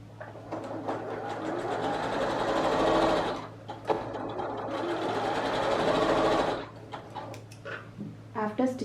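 A sewing machine stitches fabric for piping cord in two fast, steady bursts of rapid mechanical clatter, separated by a brief pause, with faint talk and handling noises afterward.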